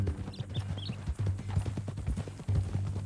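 A horse walks in Red Dead Redemption 2, its hooves clip-clopping in a steady close rhythm over a low hum, with a few faint bird chirps and no talk.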